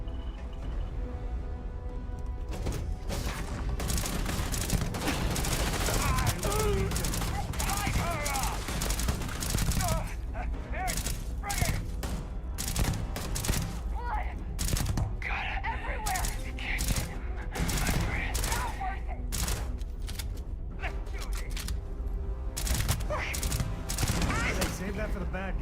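Shotgun fire in Starfield in a running firefight, a steady stream of sharp, loud blasts and rapid volleys close by for the whole stretch, with voices talking over the shooting.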